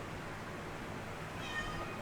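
A domestic cat gives a faint, short meow near the end, over a quiet, hissy indoor background.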